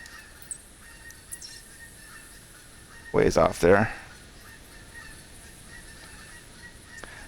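Geese honking in theHunter Classic, Hirschfelden, come through as sparse, faint distant calls, while someone briefly speaks in the middle.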